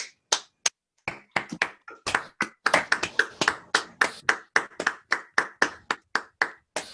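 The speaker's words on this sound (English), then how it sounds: "I think we can probably turn on our microphones and give a round of applause to Pradeep." Scattered hand claps from online session participants with microphones switched on, sharp separate claps that start sparse, bunch into a brief uneven round of applause, then thin out.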